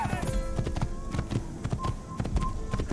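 Horse hooves clip-clop in a steady galloping rhythm during a final riding sequence in Assassin's Creed, the hoofbeats fairly close and continuous over background game music and ambience.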